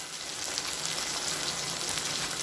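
Masala paste for a sea crab curry frying in a pan, a dense, even sizzle crackling steadily and loudly throughout without pauses.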